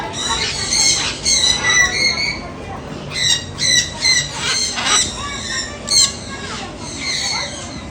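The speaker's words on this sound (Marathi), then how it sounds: "इकडे बघे पोपटा" A parrot gives a series of loud, close, harsh squawks in irregular bursts, with people's voices talking around it.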